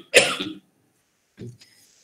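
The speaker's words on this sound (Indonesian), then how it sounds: "dia batuk tapi dalam mulut kuranglah" A single close cough, then after a pause a softer, muffled second cough into the mouth, during a religious class.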